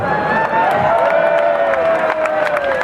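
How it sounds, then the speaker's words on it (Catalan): Crowd at a Gràcia festa major street performance of satirical verses by the Colla Vella, clapping and cheering together while a sustained tonal voice or whoop drifts over the noisy, lively mass of people close by. "Un aplaudiment a la fundació"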